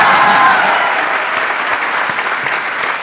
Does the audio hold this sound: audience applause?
yes